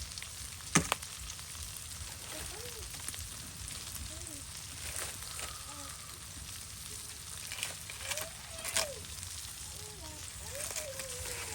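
Garlic frying in oil in a pan during Bengali home cooking of tilapia with gourd greens and potatoes, a steady broadband sizzle with occasional louder crackles and a voice talking faintly underneath.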